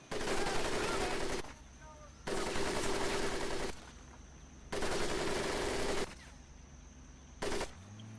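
Bursts of automatic gunfire on a training course in the Medal of Honor: Pacific Assault video game, four loud sustained volleys separated by short pauses, the last one brief.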